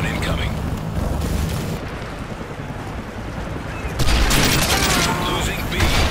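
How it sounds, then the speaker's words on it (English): Rapid rumbling explosions and gunfire from a friendly strafe run airstrike in Call of Duty: Modern Warfare 3, a continuous dense barrage that swells louder near the end, with game voices talking over it. "Friendly strafe run incoming."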